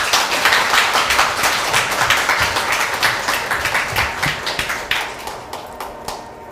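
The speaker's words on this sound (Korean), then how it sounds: "앞에 나오실 때 우리 환영의 마음으로 박수로 맞이하겠습니다" A church congregation claps in welcome as the pastor comes forward during a Sunday service, dense close applause that gradually thins and fades toward the end.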